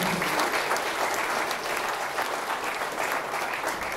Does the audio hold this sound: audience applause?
yes